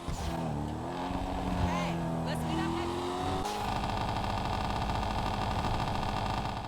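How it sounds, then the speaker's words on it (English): Engine revving high on a car in GTA 5 Online, a loud sustained whine with rising and falling pitch sweeps that then settles into a steady buzzing drone, with talk over it. "Let me rev it up real high."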